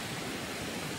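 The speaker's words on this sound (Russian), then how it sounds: "небольшая река" Small jungle river flowing, a steady broadband rush of running water heard close and continuous, with no voices.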